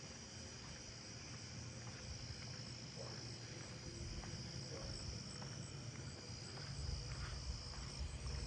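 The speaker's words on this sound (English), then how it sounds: "Southeastern field crickets." Southeastern field crickets chirp steadily in a neighbourhood at night, a dense, continuous trilling that sits at a moderate distance and fills the background with no one speaking.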